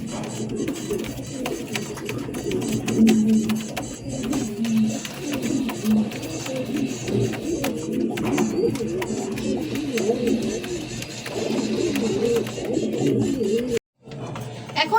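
A yellow fancy pigeon and others at a pigeon sale coo in low, repeated, rolling calls nearly continuously, close and fairly loud, with a brief dropout near the end.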